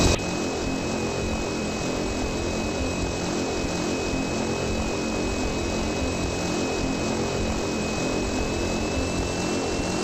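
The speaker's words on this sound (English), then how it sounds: "Very, very loud plane," A very loud small plane's engine drones steadily from inside the cabin while taxiing on the runway after landing, a close, unbroken roar with a thin high whine, no talk over it.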